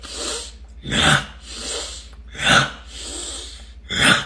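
A voice imitates a creature sniffing the air: three loud, breathy sniffing bursts at steady intervals, with softer hissing breaths between them, close and alone with no talk.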